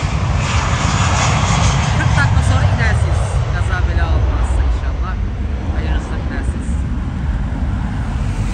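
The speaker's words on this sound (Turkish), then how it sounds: "Uçağımız geliyor." A fixed-wing airplane passing overhead, a loud steady engine roar with broad rumbling noise that holds strong throughout, nearby and continuous, with no clear talking over it.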